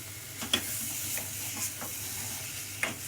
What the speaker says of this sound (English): As you can hear, it's sort of sizzling.